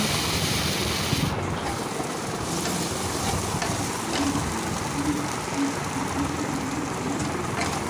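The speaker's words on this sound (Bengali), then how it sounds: "সমস্ত মশলাগুলো এখন ভালো করে একটু নাড়াচাড়া করে ভেজে নিচ্ছি" A paste of ginger, green chilli, garlic and bay leaf sizzles in a pan while being stirred for a papaya curry, a steady close hiss with occasional scraping and no talking.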